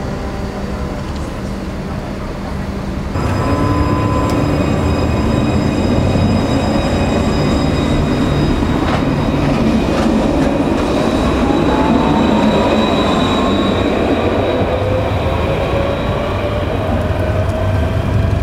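An air-conditioned tram in Bordeaux, France rumbles steadily close by, with rolling wheel noise and faint squealing tones over continuous rail clatter.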